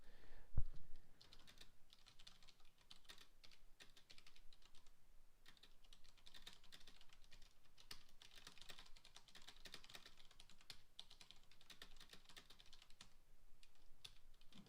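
Rapid, steady clicking of someone typing on a computer keyboard, close and continuous, with no voices over it.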